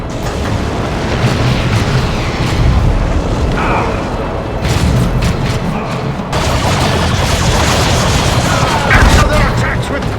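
Space Marine gunfire and explosions in Warhammer 40,000: Chaos Rising, a dense, loud barrage of booms and bursts rolling without pause, mixed with battle noise and voices speaking over it.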